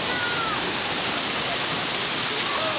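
Waterfall in the Ajodhya Hills of Purulia, a steady broadband rush of falling water, continuous and fairly loud without breaks.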